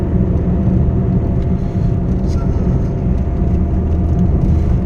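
A car cruising at about 60 km/h on the Purvanchal Expressway, heard as a constant low engine drone with road and wind rumble throughout and no talking.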